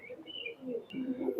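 Teddy golden cross pigeons, a running pair, give soft low coos close by, a few short murmuring phrases with faint chirps above, no voices.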